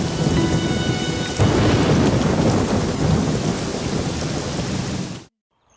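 Heavy rain pours steadily in a storm scene from a dubbed South Indian action film, with a deep thunder rumble swelling in after about a second. The downpour stays loud and continuous, then cuts off abruptly.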